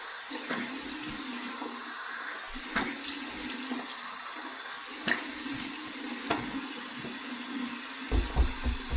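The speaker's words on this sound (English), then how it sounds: "We're going to go ahead and do my cold water rinse to close my pores" A bathroom tap runs a steady stream of cold water for a rinse after a razor shave, a continuous splashing wash broken by a few louder splashes and knocks near the end.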